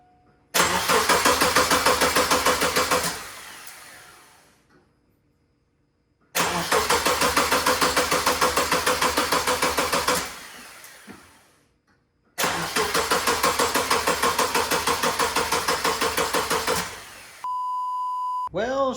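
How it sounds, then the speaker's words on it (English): A Subaru Impreza EJ22 engine cranks in three long bursts of rapid, rhythmic starter chugging without catching, separated by short silences, with a steady electronic beep sounding at the end. "Well, she is not wanting to start, so we're gonna need to do some digging here."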